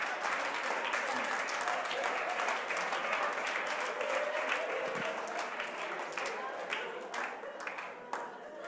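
A congregation applauds during a church sermon, with a broad wash of clapping that continues steadily and thins slightly toward the end, a few sharper individual claps standing out.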